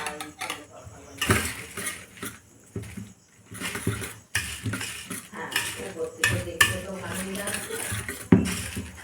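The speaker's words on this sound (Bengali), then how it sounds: "এবার চলো বন্ধুরা এটাকে আমি ভালো করে মাখিয়ে" Puffed rice is tossed with chaat masala in a bowl, giving irregular clinking and rustling stirs with a spoon against the bowl, moderately close, with brief pauses between bursts.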